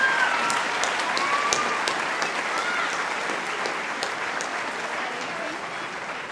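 Sustained audience applause for Year 12 graduates at the Engadine High School 2018 graduation ceremony: a steady, dense wash of many hands clapping in a hall, even in loudness throughout with no pause.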